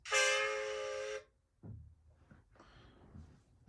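A distant steam engine whistle from an animated children's show blows a sustained, fairly clear tone for about a second, then fades into quiet, faint rumbling and clatter.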